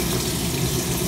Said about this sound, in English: Open hot water.